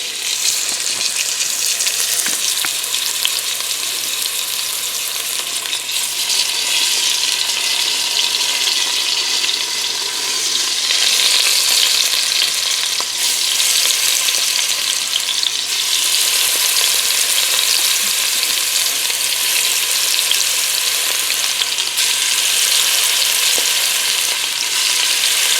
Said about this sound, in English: all I'm doing is just putting the meat on the bottom of the pan